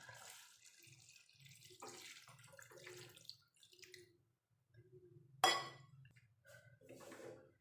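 Coconut milk pours and splashes softly into a pot of chicken curry, quiet and close, with a sharp clink of metal partway through.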